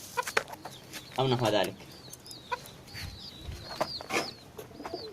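A young rooster clucks in short, repeated bursts close by, with small chirps in between, while someone talks over parts of it.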